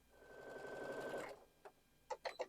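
Sewing machine stitching rail fence quilt block pieces, a quiet continuous whir for about a second, followed by a few soft clicks and taps afterward.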